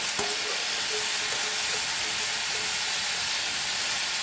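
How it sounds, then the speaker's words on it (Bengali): Moong dal frying in ghee with potatoes for a winter khichuri gives a steady, close sizzle with broadband hiss, a light knock near the start and faint clinks from stirring. "মুগ ডালটা এর সাথেই ভাজা হয়ে যাবে সুন্দর করে ভাজা হবে"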